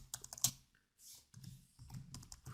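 Rapid clicks from a computer keyboard come in quick close bursts with short pauses, quiet and clear, while C file-handling code is written.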